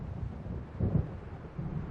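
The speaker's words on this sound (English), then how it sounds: "It seems there's a storm coming." Low rumbling thunder and gusting wind of an approaching storm in the video game Alan Wake, a dull roll swelling at midpoint over a steady windy bed.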